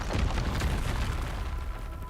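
A Bombarda blasting spell explodes in Hogwarts Legacy with a dense, heavy boom that fills the whole moment, rumbling deep and loud before easing slightly at the end.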